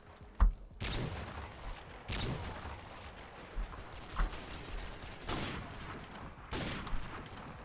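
Bursts of machine gun fire in a video game, several short volleys spaced a second or so apart, moderately loud over a quiet background, with no talking.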